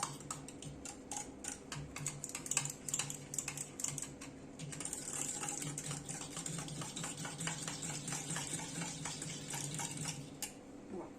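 Rapid, steady clicking and rattling of a whisk churning lassi with powdered sugar in a vessel, close by, continuing for several seconds without talk.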